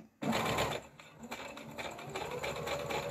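A sewing machine stitching fabric along a curved seam, a steady close whirring hum of rapid needle strokes running almost the whole time after a brief quiet start.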